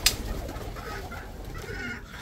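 Soft, low cooing of pigeons in a backyard bird aviary, repeated a few times at close range over faint background noise, with no speech.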